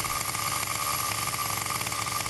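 A gas-powered RC car engine idles close by during warm-up, a steady, buzzing, slightly uneven drone that runs unbroken throughout.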